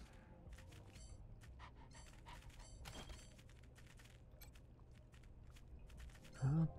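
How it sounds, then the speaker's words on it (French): A stray alpha dog in the game Wasteland 3 pants in quick, soft, rhythmic breaths close by over a low ambient bed, with a brief louder vocal sound near the end. "Ah, attends, chien alpha, chien errant."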